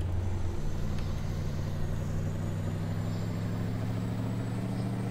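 A lorry engine in Farming Simulator 19 drones steadily at a low, even pitch while driving, loud and close, with no other sounds.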